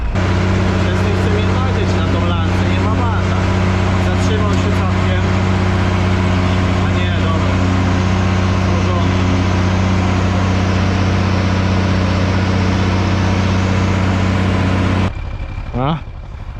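An Ursus 1224 tractor working a field in preparation for potato planting runs with a loud, steady droning engine hum, close and constant for about fifteen seconds before cutting off abruptly to quieter background sounds.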